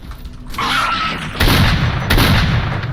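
Bursts of video game gunfire, loud and rapid, crackling over a constant noisy background with a couple of heavier booming volleys.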